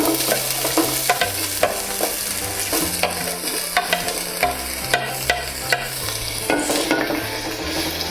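Three large chopped onions fry in a pan for wheat bread upma, with a steady, close sizzle broken by repeated scraping stir strokes, all over soft background music and no talk.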